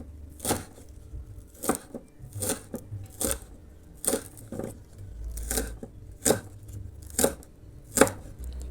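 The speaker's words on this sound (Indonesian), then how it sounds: "Kemudian dipotong kecil-kecil," A knife chops a spring onion into thin pieces on a board, giving crisp, evenly spaced cuts of about one per second. The cuts are close and distinct against a quiet background.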